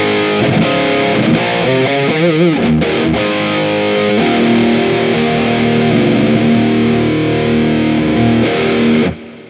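A heavily distorted electric guitar through a Mooer Prime P2 preset rings out with thick sustained chords and some wavering notes, loud and steady until it cuts off near the end.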